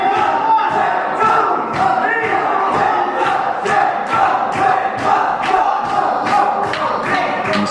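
A loud wrestling crowd at a UKW Showdown event roars continuously, with rhythmic chanting and clapping bursts pulsing through a dense, sustained wall of cheering.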